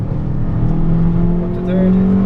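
A Fiat Abarth 500 engine pulls at full power on the Mondello Park track, a steady close drone rising in pitch as it accelerates, loud and continuous under cabin noise.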